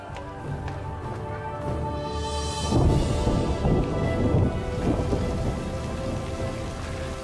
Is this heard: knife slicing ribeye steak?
no